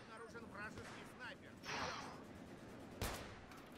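Sniper rifle shot in Battlefield, one sharp crack standing out over a lively stretch of talk with quieter game noise behind.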